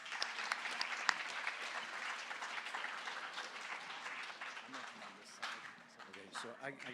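Applause at a junior high school academic awards ceremony, a fairly quiet, uneven patter of clapping in a room. Voices and movement become audible under the fading claps near the end.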